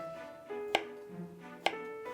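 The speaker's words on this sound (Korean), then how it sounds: "그리고 토마토도 잘라주세요." A knife cuts a tomato on a cutting board for a salad, two crisp chops about a second apart over quiet background music.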